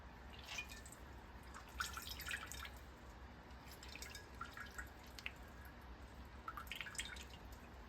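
Liquid drips and trickles from fresh homemade butter, churned from heavy cream, as it is squeezed by hand, giving soft, intermittent wet spatters at close range with no talking.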